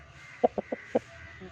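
A free-range country chicken, about two to two and a half kilos and about to be caught for curry, gives four short sharp squawks, spaced closely, at close range over a quiet outdoor background.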